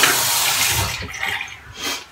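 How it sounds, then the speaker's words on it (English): Tap water runs into a sink while hands are washed beneath it, a close, continuous rushing splash that shifts slightly in tone as the hands move through the stream. "You can wash your hands if you don't want to waste it."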